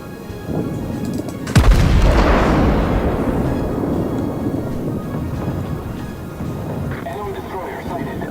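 Heavy naval guns from a warship in the World of Warships video game fire in one loud booming salvo near the start, followed by a long rolling rumble that fades out under game ambience.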